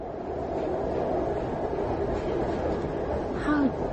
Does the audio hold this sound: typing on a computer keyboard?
no